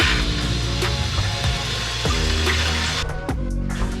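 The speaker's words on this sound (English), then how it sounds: "So we gotta go put some water in this and heat it up on the stove" Tap water pours steadily into a cooking pot at a kitchen sink while making baked mac and cheese, a continuous close rushing splash with light clinks and no talking.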